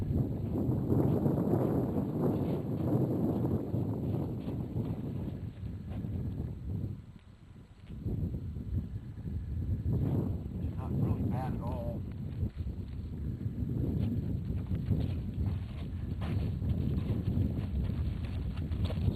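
A horse during saddling groundwork moves off at a walk, its hooves giving soft, irregular clip-clops close to the microphone amid wind noise and outdoor rustle.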